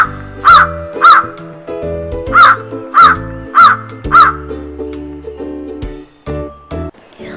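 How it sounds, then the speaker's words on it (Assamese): A crow caws six times in a steady rhythm, loud and close, over soft background music, followed by a few fainter calls. "আহাচোন এতিয়া কাউৰীৰ মাতটোনো কেনেকুৱা শুনি চাওঁ আমি।"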